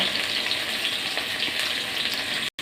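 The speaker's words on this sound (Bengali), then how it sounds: "কড়াটায় তেল গরম হয়ে গেছে এবার আমি এটা ছেড়ে দিয়ে পরিমাণ মতো হলুদ লবণ দিয়ে আমি এটাকে ভেজে নেব কিছুটা" Ground spice paste with turmeric and salt sizzles in hot oil in a kadai, a close, continuous crackling fry that briefly cuts out near the end.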